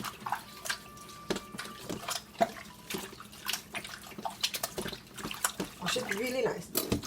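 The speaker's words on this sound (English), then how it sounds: "You squeeze out the juice and you wash your meat." Raw chicken thighs rinsed and washed under running water in a kitchen, with splashing and trickling throughout and scattered handling clatter, while someone talks over it.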